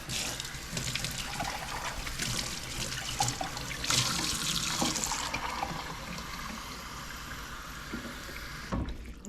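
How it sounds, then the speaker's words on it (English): Water pours into a pot of simmering pasta and lentil soup, a steady splashing stream close by that runs for several seconds before ending with a brief clatter. "I think I have to add some water"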